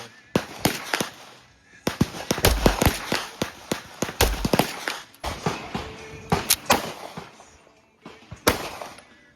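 A compensated double-stack Atlas Erebus 1911 pistol fires a string of sharp, loud gunshots outdoors at targets, shots coming in quick clusters with brief pauses, people talking faintly between them.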